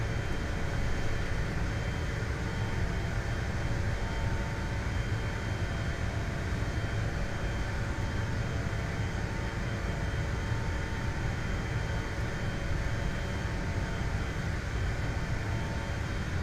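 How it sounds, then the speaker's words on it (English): Steady, loud jet engine roar of an Aerosoft CRJ700 airliner during its takeoff roll in a flight simulator, a constant broadband rumble with no gaps. "Skywest 661, taking off runway 8 right."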